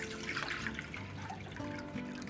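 Cold filtered water poured from a tea pitcher into a pan, a soft continuous splashing trickle with gurgling bubbles, close and fairly quiet, lasting a couple of seconds.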